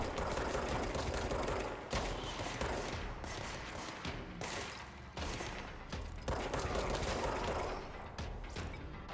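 Dense, loud gunfire in the video game Control, bursts of rapid automatic shots and crashing impacts that continue almost without pause, with short breaks between volleys.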